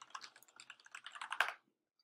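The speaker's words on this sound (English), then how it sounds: "you can install it just simply by typing pip install lava client into your terminal application" Rapid, close keystrokes on a computer keyboard as a pip install command is typed into a terminal, a steady run of clicks ending in one louder tap, then silence.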